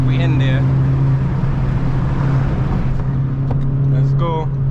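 A turbocharged Honda Civic Si engine pulls hard under acceleration, a loud, steady, droning engine note filling the whole stretch, with faint whistling overtones near the start and end.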